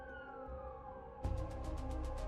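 An ambulance siren wails steadily during a hospital dash, a sustained tone that gets much louder and harsher halfway through, with rapid pulsing bursts as the vehicle seems to draw close.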